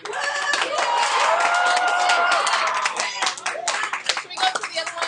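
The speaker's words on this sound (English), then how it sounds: "Clap or make some noise if you are a musician." A class of students clapping and calling out together in a school classroom, a dense burst of close applause that thins into scattered claps and voices toward the end.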